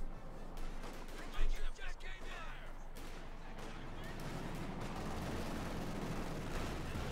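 Machine gun fire and blasts from a Company of Heroes 2 match between Wehrmacht and US Forces, with a few louder bursts early on and then steady battle noise running under continuous commentary.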